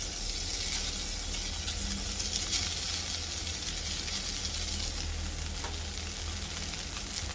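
Sevai tossed in a pan with curry leaves and pepper-cumin powder sizzles steadily and close, with soft scraping as it is stirred and no voices.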